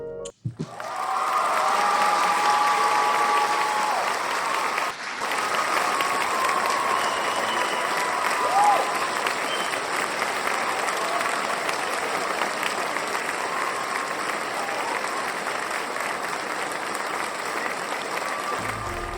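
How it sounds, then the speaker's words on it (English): An audience gives a standing ovation, with sustained, dense applause from a large crowd that starts abruptly, holds steady and loud for a long stretch, and carries on without fading. "How about a standing ovation for my sister Arielle Faith Michael?"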